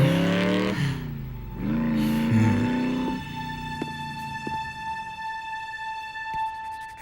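A motorcycle engine revving in the animated series Transformers Prime, rising and falling loudly for about three seconds before it drops away and leaves a faint, steady electronic hum with a few soft clicks.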